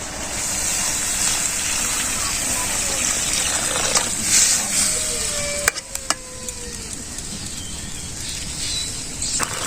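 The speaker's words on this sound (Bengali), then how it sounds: "পরে আমি জলটা দিয়ে দিই" Water is poured into a hot pan of fried small fish with eggplant in a village kitchen, bringing a loud rushing hiss and sputter, then a few sharp clanks. A voice talks over it.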